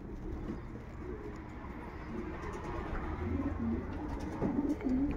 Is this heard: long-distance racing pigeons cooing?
yes